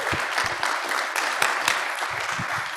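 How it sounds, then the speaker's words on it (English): A seated audience at a city council meeting in Livermore claps for volunteers, a short burst of dense, steady applause with scattered sharper claps, close and fairly loud. "I just want everyone to give them a big round of applause."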